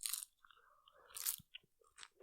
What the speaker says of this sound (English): Listen to a beautiful fucking sound of those nacho